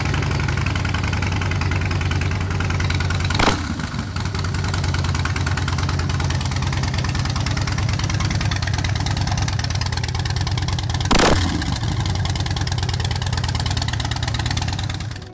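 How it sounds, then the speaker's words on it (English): Motorcycle V-twin engine idling with a steady low, lumpy throb, loud and close, with two short sharp revs or blips breaking the idle, no talk. "and has an excellent V-twin sound"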